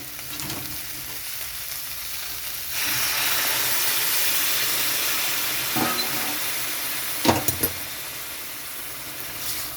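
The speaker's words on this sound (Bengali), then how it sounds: "এখানে আমি গরম জল দিয়ে দিচ্ছি" Hot water poured into a simmering prawn and potato curry, a steady hiss and sizzle that swells partway through, with a few sharp clinks of a utensil against the pot.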